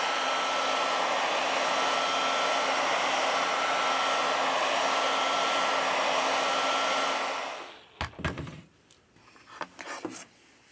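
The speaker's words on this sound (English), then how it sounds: "With the help of a heat gun, we apply 90 Celsius degrees during 4 minutes." A heat gun blows a steady, loud broadband rush of hot air onto a Huawei MediaPad T3 10 tablet to soften its adhesive, running continuously for about seven seconds before cutting off, followed by a few faint handling clicks.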